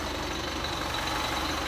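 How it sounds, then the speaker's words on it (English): The small 70 horsepower engine of an apple shake-and-catch harvester runs steadily in an orchard, a continuous close mechanical hum with no talking. "We are using here a small engine, and we don't need the big one. We have here a 70 horsepower joy star"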